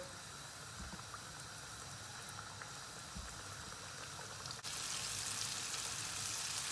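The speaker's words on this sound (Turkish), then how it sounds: "Orta ateşte kızarmasını bekleyeceğiz." Starch-coated pieces frying in hot oil over medium heat, a steady close sizzle and bubbling that thickens into a louder, brighter hiss near the end.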